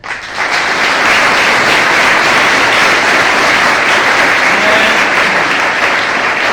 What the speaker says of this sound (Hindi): तो मैं आज बच्चों को एक अनुरोध करूंगा कि उनके लिए एक ज़बरदस्त ताली हो जाए।